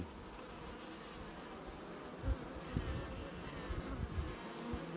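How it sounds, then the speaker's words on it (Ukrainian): Wasps swarming around a Ukrainian beehive, a faint continuous buzzing drone with a few closer passes rising briefly in loudness, no voices. "дивіться, які осі"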